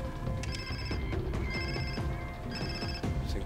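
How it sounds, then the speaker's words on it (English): A cell phone rings in the video game Far Cry 3, repeating an electronic ringtone in regular bursts over a steady, dense layer of in-game ambience. "I think I can hear my cell phone."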